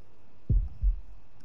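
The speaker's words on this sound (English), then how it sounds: "Okay, heartbeat." A heartbeat sound effect in Shadow of the Tomb Raider thumps twice, a deep close lub-dub pulse over a faint steady hum.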